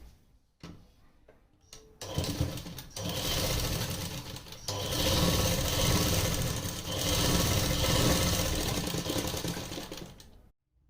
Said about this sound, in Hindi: अब इसके ऊपर भी एक सिलाई लगा लेते हैं ताकि हमारी सिलाई पक्की हो जाए।